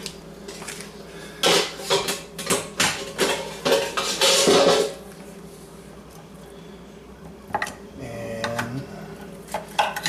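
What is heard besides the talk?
cutting up cooked teriyaki beef ribs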